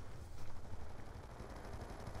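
Rapid automatic fire from the PDW-57 in Black Ops II, a continuous stream of fast, evenly spaced shots at a moderate, slightly distant level with no speech over it.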